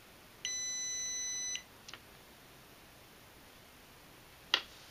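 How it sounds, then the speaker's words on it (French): A JK battery management system (8S, 200A) wired to EVE 280K cells gives one steady electronic beep of about a second, followed by a faint click and later a sharper click against a quiet hiss. "Il a fait bip."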